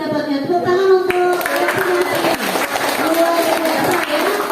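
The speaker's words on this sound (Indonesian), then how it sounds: "Tepuk tangan untuk" A classroom of children claps together in a short burst during a hands-on soil texture lesson, the clatter mixed with kids' voices and a teacher talking over it.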